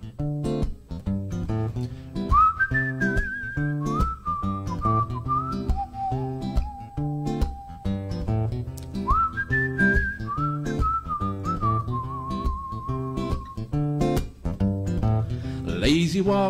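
Someone whistles a bright melody in long, sliding phrases over a steady instrumental accompaniment, clear and close.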